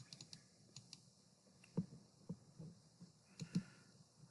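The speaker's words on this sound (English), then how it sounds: "let's go ahead and type that one in here" Computer keyboard typing in a quiet room, a handful of sharp distinct key clicks spaced irregularly, with a few louder presses standing out near the end.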